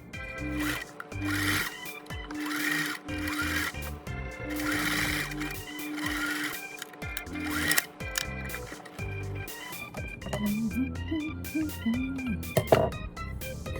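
A sewing machine top-stitching a fabric face mask runs in short, uneven bursts of mechanical whirring and clicking, with a few brief stops in between.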